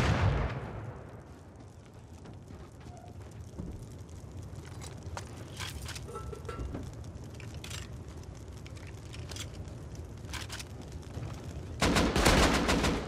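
Gunfire in the Rust video game comes as scattered bursts and single shots, some sharp and close and others more distant, over a steady background rumble, with a loud cluster of shots near the end.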